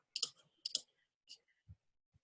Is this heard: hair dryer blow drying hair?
no